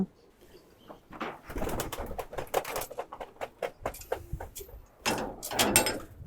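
Pigeons in a rooftop loft, several with watery eyes in rainy weather, give soft close coos among bursts of shuffling and wing flutter, with no talking.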